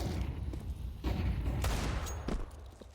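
Gunfire from a Counter-Strike 2 match, several sharp shots at irregular intervals against steady background game noise, fairly loud and close.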